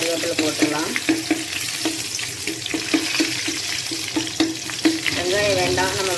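Garlic and curry leaves fry in hot oil for a drumstick and shallot sambar, a close crackling sizzle punctuated by repeated scraping stirs, with a faint voice in the background.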